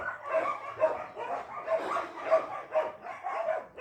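A dog barks and yips repeatedly in short, excited bursts, close by, with a whimpering quality between barks.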